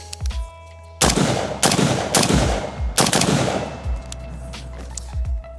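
FN SCAR 17 rifle firing: four loud, close gunshots spaced about a second apart, each with a sharp crack and a booming tail, no talking.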